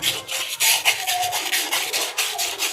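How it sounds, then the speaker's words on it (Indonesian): Repeated rough rubbing strokes of fine sandpaper against an electric fan motor's rotor, close by, in an uneven back-and-forth rhythm with no talking. "menggunakan amplas yang paling halus seperti ini. Ini tinggal kita gosok saja"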